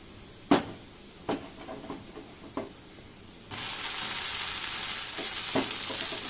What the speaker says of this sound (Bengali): এই যে পেঁয়াজটা একটু ভাজা ভাজা হয়ে গেছে,